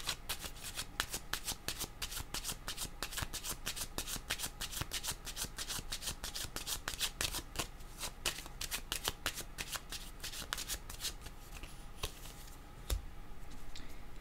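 Playing cards are shuffled continuously for a tarot-style card reading, a close, crisp riffling and rubbing that runs steadily for over ten seconds with no talking.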